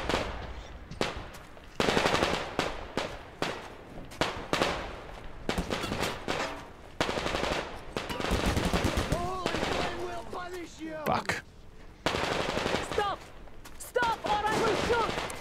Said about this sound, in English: Oh, I think you're already shooting